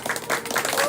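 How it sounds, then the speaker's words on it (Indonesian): Wedding guests applaud for a newlywed couple, short lively clapping with a festive crowd murmur and voices mixed in underneath. "berikan tepuk tangan yang meriah untuk Putri dan juga Budi"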